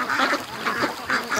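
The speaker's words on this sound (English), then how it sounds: "there's like maybe 25 ducks, 20 ducks left in the yard, and they're headed down too" Around twenty ducks quack in a yard in light rain, several loud nearby calls overlapping in quick bursts.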